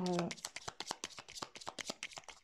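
Tarot cards are handled and laid out in a quick series of crisp taps and flicks, close and fairly loud, with a brief hum at the start.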